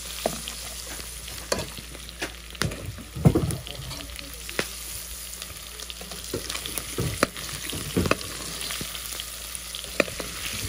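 Food frying in fat on a wood-burning stove, crackling and sizzling steadily with scattered louder pops and stirring scrapes, close and moderately loud, no talk.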